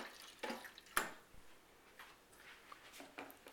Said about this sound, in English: we're just going to rinse the chocolate off the side here to get every little bit of